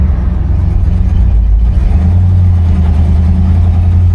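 A 1975 Buick LeSabre engine pulls uphill with a steady low drone that shifts pitch partway through as the load changes, loud and close throughout with no talking.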